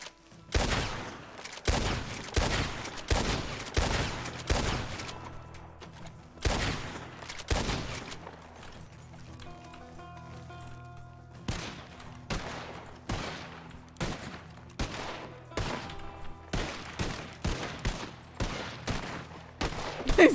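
Rapid bursts of hip-fired gunfire in the Western roleplay game RedM, with loud sharp shots in clustered volleys that stop briefly and then resume across the whole stretch.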